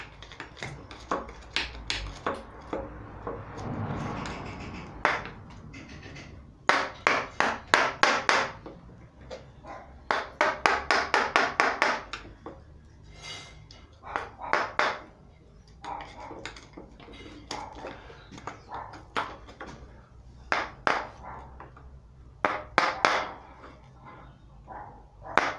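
Splinters are cleaned out of a carved carob tree stump for a bonsai, heard as bursts of sharp, rapid wooden scraping and tapping strokes, close and separated by short pauses.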